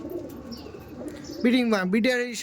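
Madrasi pigeons in an indoor breeding loft give low, wavering coos that swell louder toward the end, over a quiet room hum.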